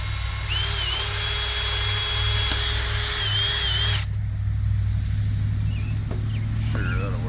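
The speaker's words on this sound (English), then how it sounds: "I'm gonna take and drill a hole in this cap" A power drill whines steadily at high speed for about four seconds, drilling a vent hole in a cap, then cuts off, leaving a low rumble and brief faint tool noises.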